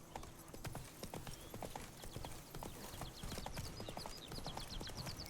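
The horse Roach gallops in The Witcher 3, with quick rhythmic hoofbeats drumming steadily and close throughout and no voices over them.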